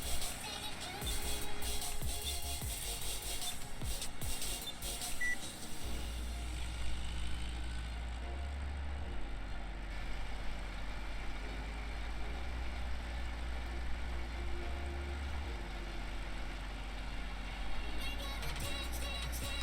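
A small tractor engine in Farming Simulator 17 runs steadily with a low, droning hum that shifts in pitch partway through, heard continuously on its own with no talk.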